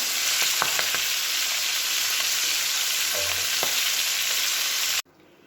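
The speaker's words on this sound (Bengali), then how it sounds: "লাল লাল করে মাছগুলো ভেজে নিচ্ছি" Fish fried until reddish-brown in hot oil in a pan, a steady loud sizzle with a few clinks of a spatula, cutting off abruptly near the end.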